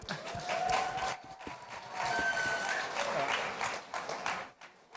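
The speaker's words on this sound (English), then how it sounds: "let's give them a round of applause" Applause from an audience at a Binance fifth-anniversary celebration, steady clapping with some background voices, fading out toward the end.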